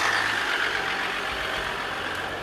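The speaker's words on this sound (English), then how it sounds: "I'm not sure you're gonna hear a lot coming out of a diesel engine. Why don't you start it up and let's see." A diesel engine running steadily after start-up, a low, even broadband rumble with a faint whine, fairly close and continuous with no talk.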